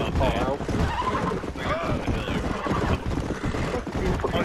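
A horse in the video game Red Dead whinnies loudly while hooves clip-clop in a quick running rhythm, mixed with clanking game effects and players talking over it.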